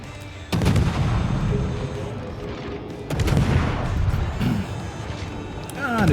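Ship guns fire in the World of Warships naval battle game, with heavy booming salvos at irregular intervals over a rumbling battle background, while a voice talks in between.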